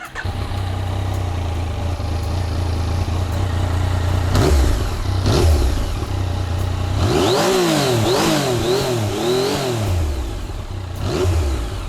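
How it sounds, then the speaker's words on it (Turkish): A Yamaha Tracer 900 motorcycle, sharing its engine block with the MT-09, idles steadily up close, then is blipped in a few sharp revs that rise and fall one after another before settling, with no talking. "Şimdi hemen unutmadan size motorun sesini bir dinletelim."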